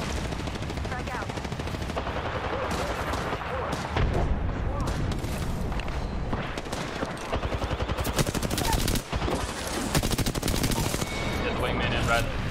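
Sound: gunfire in Apex Legends video game

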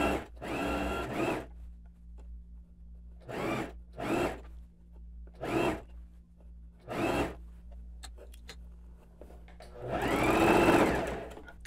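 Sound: sewing machine stitching binding on blouse

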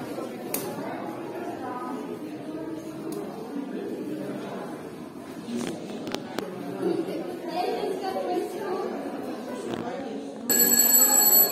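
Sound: theatre first-call bell ringing

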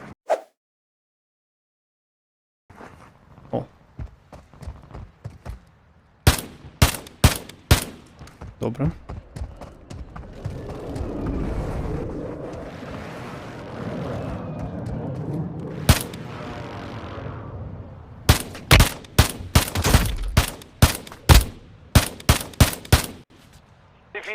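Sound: sniper rifle gunfire in a video game

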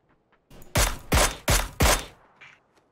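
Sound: gunshots in a shooter video game

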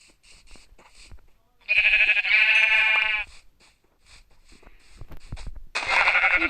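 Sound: sheep bleating in the Craftsman video game

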